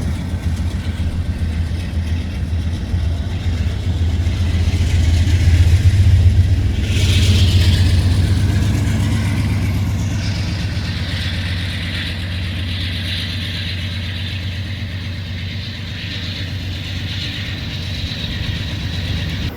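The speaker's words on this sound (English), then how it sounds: "we'd also see that H1 working very hard to begin starting this train again" BNSF H1 train locomotives straining to start moving again after a stop, a heavy low diesel drone that swells in loudness midway and then eases slightly, continuous and close with no talk.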